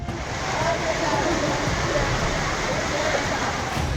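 Rushing monsoon floodwater surging through streets in Jodhpur, Rajasthan after heavy rain, heard as a loud, unbroken broadband roar like a waterfall, steady and close, with faint muffled voices underneath.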